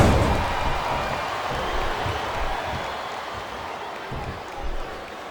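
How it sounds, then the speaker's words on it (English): Steady broadband crowd roar fills an arena during a Rob Van Dam vs Eddie Guerrero TLC match in Smackdown vs Raw 2007, a sustained cheering wash with slight swells and no clear talk. "these fans always cheer so loudly for Eddie Guerrero"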